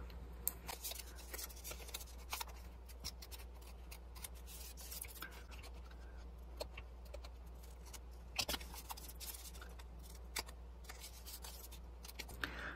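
Scissors trimming loose thread on a craft piece, a long run of quiet, close snips and clicks at an uneven pace over a low steady hum, with no voices.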